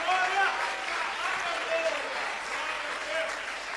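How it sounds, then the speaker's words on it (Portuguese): A church congregation applauds during a worship service, giving a steady wash of clapping and crowd noise with voices audible underneath. "Você consegue aplaudir ao Senhor pela sua palavra agora? Faça isso com vontade."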